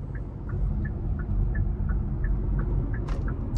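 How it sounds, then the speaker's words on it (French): A Hyundai Ioniq 5's turn signal ticks softly and evenly, about three clicks a second, over a low steady hum of the electric car's cabin. "ce qui est marrant aussi, c'est le bruit du clignotant"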